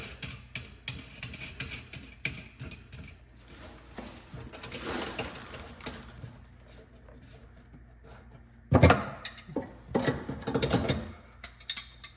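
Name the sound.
tightening metal nut on faucet drain pipe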